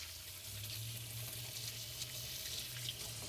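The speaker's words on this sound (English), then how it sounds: "Let me rinse my hands real quick" Hands rinsed under a running kitchen tap while cooking with raw meat, a steady close hiss of flowing water with light splashing throughout, no talking.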